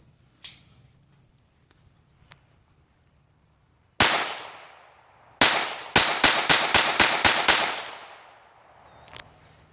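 A 1911 pistol fitted with an Advantage Arms .22LR conversion fires sharp, close cracks: one early shot, a single shot, then a quick string of about eight evenly spaced rounds, with a faint ring after.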